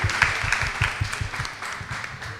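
A small group at a community meeting claps for itself, giving a brief burst of close, uneven hand claps with a loose rhythm that tapers off.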